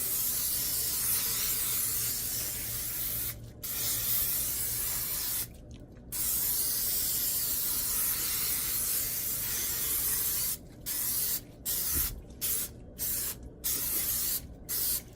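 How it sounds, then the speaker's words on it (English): A cooking spray hisses in a long continuous burst, then repeated short spurts, several quick bursts in a row near the end, close and clear. "Then we're going to spray it again with our non-stick cooking spray."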